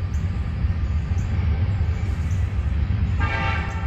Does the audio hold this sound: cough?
no